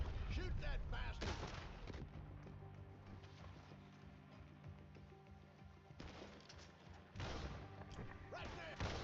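Gunfire in a nighttime shootout in Red Dead Redemption 2, loud bursts of shots at the start and end with a quieter stretch between, under shouted voices.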